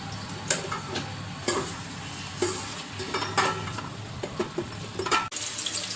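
Onions frying in a pan give a steady sizzle, broken by several sharp scraping stirs that come every second or so.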